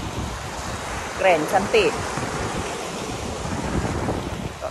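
Ocean waves wash in steadily at Lhok Mata Ie beach in Aceh Besar, a rocky shore, with wind buffeting the microphone; a voice briefly speaks over the surf.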